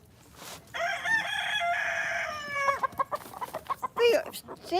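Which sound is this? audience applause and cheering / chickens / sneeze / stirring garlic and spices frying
chickens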